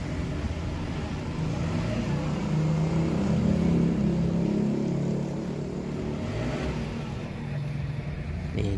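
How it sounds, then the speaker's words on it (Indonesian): A former angkot minibus engine idling and being revved, a steady rough rumble that swells in the middle and eases off, close and continuous with no talk. "Kita geber-geber."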